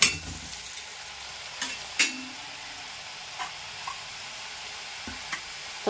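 Janthikalu frying in hot oil, a steady broad sizzle with a few sharp louder bursts as dough drops in, close and without voices.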